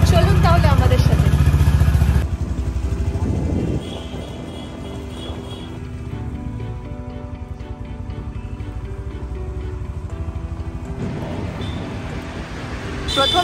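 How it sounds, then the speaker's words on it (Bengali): A motorcycle ride through neighbourhood streets in Kolkata during the Saraswati Puja festival, with a loud engine rumble at first that gives way to a steady road drone and traffic noise, while voices talk over it. "তাহলে বাইকে করে আবার বেরোনো যাক।"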